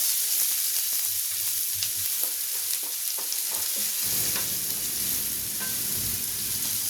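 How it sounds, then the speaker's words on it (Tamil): Onions fry in oil toward golden brown for a spicy brinjal fry, a dense hissing sizzle running throughout with occasional stirring taps, close and steady, with no speech. "வெங்காயம் சேர்த்து வெங்காயம் நல்லா கோல்டன் ப்ரௌன் ஆகிற வரைக்கும் நல்லா நம்ம வறுக்கணும்"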